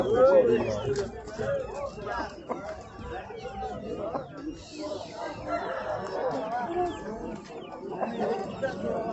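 Roosters at a busy poultry market in Dakan crow and cluck, one crow standing out near the start, all under constant crowd chatter and bargaining voices.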